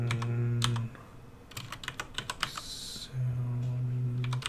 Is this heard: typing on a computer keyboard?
yes